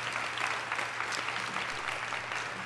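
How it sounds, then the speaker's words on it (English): Audience at a school parent meeting applauding school administrators, a steady burst of clapping filling the room for a few seconds without talking. "Let's give all of our administrators a big round of applause for all of the work that they put in."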